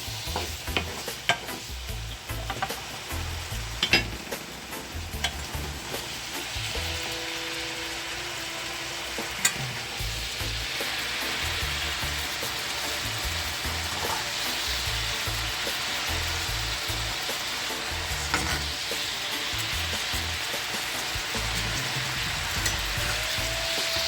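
Chicken fried rice sizzles and fries in a pan, with a utensil stirring and scraping in irregular bursts over a steady sizzle, fairly close and with no talking.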